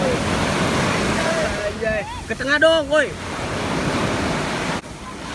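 Ocean waves break and wash on a beach in Thailand, a steady loud surf roar with wind buffeting the microphone, while people talk and call out briefly over the water.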